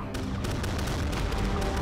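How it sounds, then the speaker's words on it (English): Dense, rapid musket gunfire from the video game Totally Accurate Battle Simulator crackles in overlapping volleys, a continuous loud barrage of sharp shots with booming undertones and no talking. "Wow, that's a lot of gunfire."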